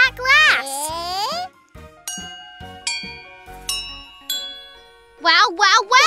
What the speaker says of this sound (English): Water glass xylophone!